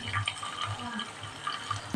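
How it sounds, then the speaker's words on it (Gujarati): Reserved pasta cooking water is poured into an Indian-spiced pasta sauce, giving a soft, irregular trickle and splash at low volume with quiet kitchen background. "જે પાસ્તા આપણે ગરમ કર્યું હતું તે પાણી જે આપણે રાખવાનું અને આમાં થોડુંક આપણે એડ કરવાનું"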